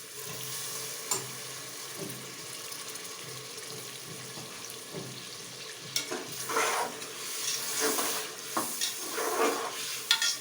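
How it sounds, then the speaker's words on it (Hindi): Ground tomatoes frying in a pan for arvi gosht, a steady sizzle overlaid by irregular stirring scrapes and splashy bursts that grow busier toward the end. "अब मैं इसमें टमाटर डाल रही हूँ पिसे हुए।"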